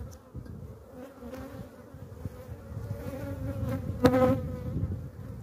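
Honey bees hum steadily around an opened hive during frame work for honey production, a dense insect drone with brief louder passes of single bees near the ear.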